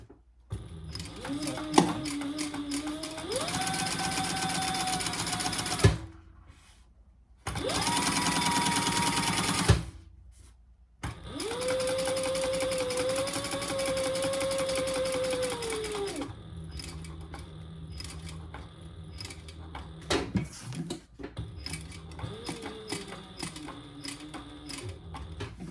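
A sewing machine stitches with purple variegated thread in steady whirring bursts, pausing between runs, close and fairly loud with no talking.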